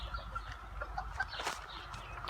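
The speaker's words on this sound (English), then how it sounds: "we have some bantams" Bantam chickens in a cage on a farm cluck softly in short, scattered bursts, fairly close and gentle over a low, steady background with no talking.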